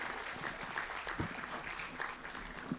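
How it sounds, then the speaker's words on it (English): Audience applause during a Sunday morning church worship service: a fairly soft, continuous patter of many hands clapping, with a few louder individual claps standing out, and no speech over it. "let's give them a round of applause for their work"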